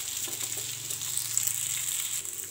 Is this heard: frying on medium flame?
yes